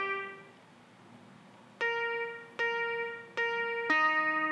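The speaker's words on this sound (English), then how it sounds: "Now this guitar without those effects is actually drastically different" Dry, clean guitar sound played on an MPC Live 2 with no effects: a sustained tone followed by four plucked notes at roughly even spacing, each ringing with a clear harmonic stack and no echo, played alone.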